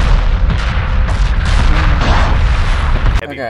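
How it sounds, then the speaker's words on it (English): Heavy weapons fire pounds continuously during a space battle in Homeworld Remastered, a dense, loud rumble of booms and blasts that cuts off abruptly near the end. "Heavy fire."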